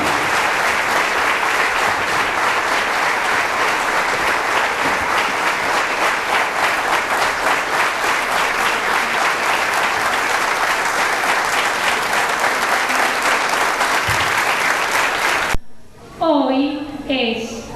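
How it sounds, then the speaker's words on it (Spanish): A crowd gives steady, loud applause at a preschool end-of-year graduation ceremony at a school. The clapping lasts about fifteen seconds before stopping abruptly, and a voice then speaks. "Recibimos con un fuerte aplauso a nuestros graduandos."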